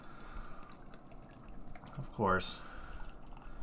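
Hop Butcher hazy triple IPA beer pours into a glass in a brief rising gush of liquid lasting about half a second, heard over quiet room noise with a voice speaking briefly.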